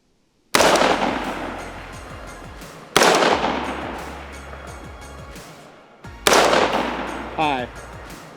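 Three loud rifle shots are fired at small targets through a cheap 10-power scope, spaced a few seconds apart. Each one cracks sharply and then rings out in a long decaying echo.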